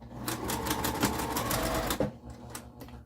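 A sewing machine runs steadily, stitching layers of fabric for a cube pincushion with a 1/4 inch seam, its rapid needle clatter close and continuous for about two seconds before slowing into a few separate stitches.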